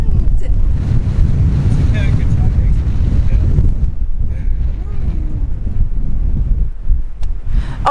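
Strong wind buffets the microphone on a clifftop parking spot above Playa de los Muertos beach in Cabo, roaring steadily and loud throughout with low rumbling gusts, while a faint voice is heard briefly.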